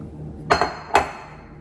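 Dry ingredients for cabbage muffins tipped into a mixing bowl, heard as a few sharp clinks and knocks of a container against the bowl, close and fairly quiet, with no talking.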